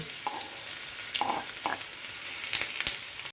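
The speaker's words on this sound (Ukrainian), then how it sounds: "А тут підсмажу цибульку." Onion fries in oil in a small stainless steel pan with a steady, close sizzle broken by a few sharper crackles and pops.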